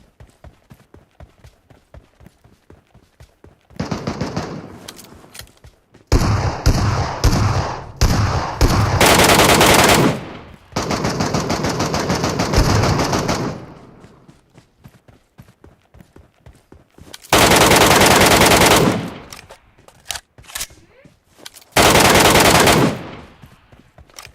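Automatic gunfire in the Metro Royale video game, with long sustained loud bursts separated by short pauses and scattered single shots at the start.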